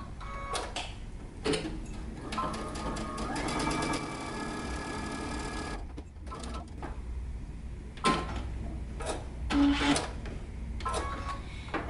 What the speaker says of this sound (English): we're going to stitch in between these at 5/8 of an inch seam allowance